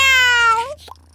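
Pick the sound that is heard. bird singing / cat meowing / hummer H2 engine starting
cat meowing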